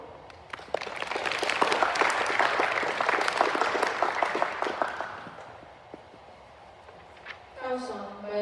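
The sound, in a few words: audience applause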